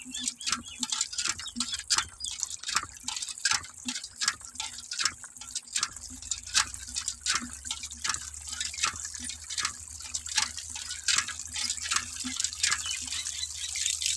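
Water running from a tap in a village setting, splashing and dripping in uneven pulses, fairly faint, with a low steady flow sound joining partway through.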